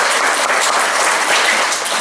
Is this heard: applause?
yes